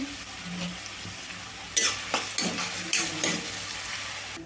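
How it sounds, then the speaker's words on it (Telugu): Onion pieces frying lightly with a pinch of salt in a pan while cooking a ridge gourd and tomato curry, a low steady sizzle broken by several distinct stirring scrapes and clinks against the pan, close and without talk. "ఉల్లిపాయ ముక్కలు లైట్గా వేస్తే సరిపోతాయండి ఎక్కువ వేగాల్సిన అవసరం అయితే లేదు"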